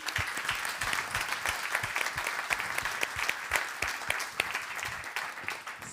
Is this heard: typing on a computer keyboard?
no